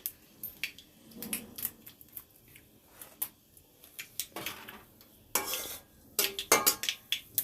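Spinach hitting hot oil with mustard seeds in a wok, heard as quiet crackle and sizzle broken up by repeated clinks and scrapes of a utensil against the pan, some sharp and close, bunching into louder bursts toward the end.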